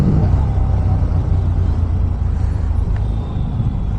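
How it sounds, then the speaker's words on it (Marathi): A heavy vehicle rumbles past on a road, heard from a moving motorbike as a loud, continuous low roar that masks everything else throughout. "या रोडला एवढं हेवी व्हेकल कुठून?"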